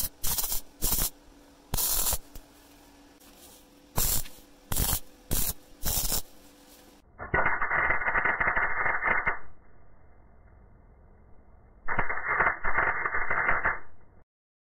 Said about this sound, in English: Now I can weld them on properly.